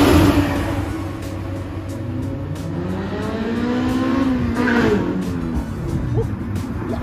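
A 1999 Honda Civic SiR with VTEC engine revving, rising and falling pitch sweeps as the throttle is worked, loud and close, with faint voices behind.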